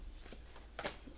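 Tarot cards being shuffled by hand, a few soft riffling flutters with one sharper snap near the end, quiet and close with no voice.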